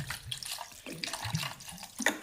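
Cold water pours in short splashing bursts into a mixer jar holding mint leaves, lime juice and a pinch of salt for a sugarcane-style juice, near and fairly quiet, with gaps between pours.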